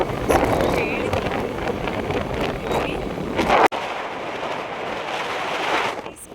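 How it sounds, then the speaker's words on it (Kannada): Strong wind blowing outdoors near a temple outside Bengaluru, with areca and coconut plantations around: a loud, continuous roaring rush buffeting the microphone, dropping for an instant midway before resuming with the same force. "ತುಂಬ ಗಾಳಿ ಬೀಸ್ತಾ ಇದೆ ಆಪೋಸಿಟ್"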